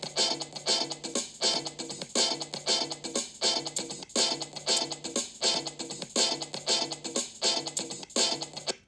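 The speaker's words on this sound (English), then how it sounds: "So when you put the drumming and the guitar and the bongos together," Drumming, guitar and bongos combine in a dense, looping beat with steady repeating hits and bright percussive texture throughout, loud and continuous with no talk.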